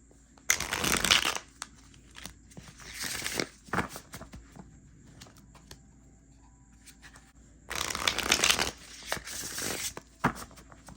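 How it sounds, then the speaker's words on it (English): Thin matte tarot cards are shuffled close up in two bursts of quick, papery riffling and sliding, separated by softer card handling and taps in a quiet room. "Yeah, these shuffle so nicely,"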